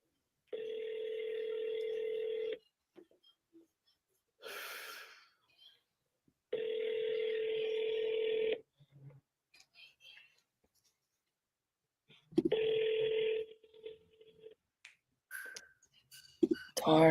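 Outgoing phone call ringback tone: three long steady ring bursts, each about two seconds with pauses between, fairly loud and close, with small handling clicks and noises in the gaps.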